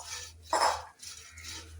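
A spoon scrapes through flattened rice in a hot pan, making three soft, close, rhythmic stirring strokes while aval laddu is being made, with no talking.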